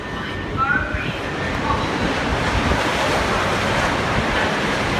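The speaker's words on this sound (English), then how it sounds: "There goes the Eurostar." A Eurostar train roars through Ashford International station, a loud, continuous broadband rush with gusting wind noise buffeting the microphone throughout.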